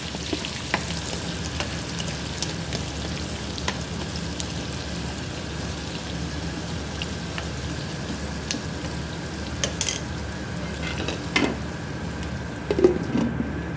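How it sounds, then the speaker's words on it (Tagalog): Sliced onions fry in hot olive oil in a pan, giving a steady, even sizzle with occasional crackles and light stirring taps, fairly quiet and with no talking. "ilagay na natin ang ating sibuyas sa mainit na kawali na may mantika"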